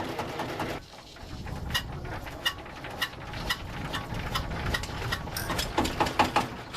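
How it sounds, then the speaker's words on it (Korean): A struggling boat engine idles roughly at a landing on the Pangalanes canal in Madagascar, a steady mechanical rumble broken by irregular knocks and clanks, fairly close and without talk. "엔진 상태가 영 시원치 않습니다"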